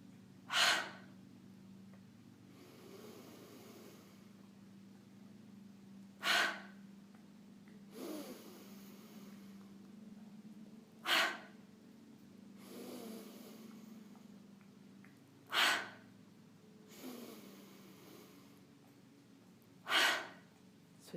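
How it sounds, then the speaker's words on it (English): A child-paced breathing exercise with repeated breaths: five sharp, loud exhale bursts spaced about five seconds apart, each followed by softer drawn-in breaths, over a low steady room hum. "we're going to take a deep breath in as we squeeze"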